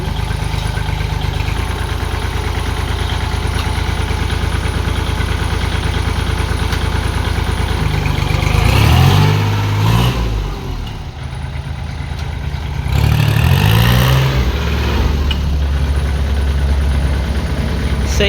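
A used tractor with its original, unrebuilt engine idles at a steady low rumble, loud and close, with two brief surges in revs partway through.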